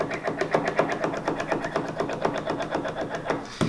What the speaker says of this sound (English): This is a machine that will thin the tip